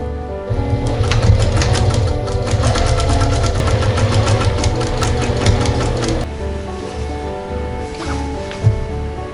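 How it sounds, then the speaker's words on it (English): An overlocker stitches the side seams of a top skirt in a steady, loud mechanical whir with fast rhythmic ticking, running for about six seconds before easing off into quieter handling noise and a brief knock. "I'm just overlocking the sides of the top skirt."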